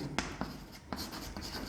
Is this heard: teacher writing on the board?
yes